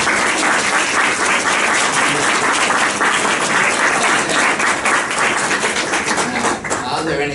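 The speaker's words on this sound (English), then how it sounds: "So we'll have a big round of applause" Loud, sustained applause from a large crowd at a law lecture, dense clapping filling the whole stretch without a break.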